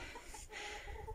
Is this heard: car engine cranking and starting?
no